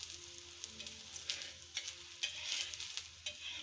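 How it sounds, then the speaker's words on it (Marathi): Sabudana paratha sizzling in hot ghee on a pan, a steady soft hiss with scattered small pops and crackles, close and fairly quiet, with no one talking. "गोल गरगरी मस्तपैकी साबुदाण्याचा पराठा. तो शेकण्यासाठी तूप घेतलेला आहे."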